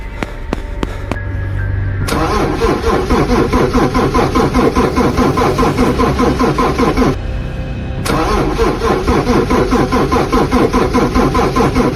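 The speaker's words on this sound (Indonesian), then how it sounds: "kenapa sih ini mobil gak mau nyala? Dari tadi di starter cuma bunyi doang." Car starter cranking as the engine fails to catch: a few sharp clicks, then a long run of rapid, rhythmic whirring turnover, a short pause, and another extended cranking burst, loud and close.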